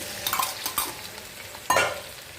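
Tempering of mustard seeds and curry leaves with tomato, onion and chilli frying in a pan, with short bursts of sizzle and stirring scrapes close by, loudest near the end.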